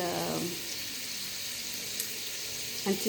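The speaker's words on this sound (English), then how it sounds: "I'm gonna stir the onions until" Onions frying in a pot for pilau give a steady, close, hissing sizzle that runs throughout, with a faint scrape or two of stirring near the start and end.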